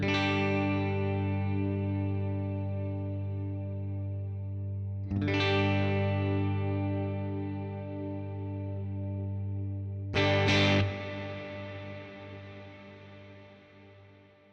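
Three strummed electric guitar chords ring out through a Line 6 Helix reverb effect, each struck about five seconds apart and left to decay into long, shimmering, chorus-tinged tails, with no talking.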